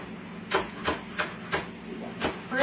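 A knife thinly slices green onions on a cutting board, six evenly spaced soft chops landing with a muted thud.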